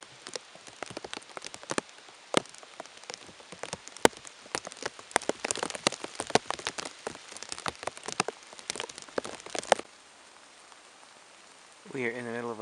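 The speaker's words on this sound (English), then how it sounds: "We are in the middle of a several days long rain." Rain patters steadily in the Canadian countryside during a days-long wet spell, dense close drips and taps on surfaces, thinning out near the end before a brief different sound.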